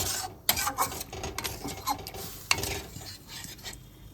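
A spoon stirs cooked dal into chicken in a pot, making scraping, clinking strokes against the metal with a soft wet churning between them. The scrapes come close and moderately loud, with sharper knocks at intervals.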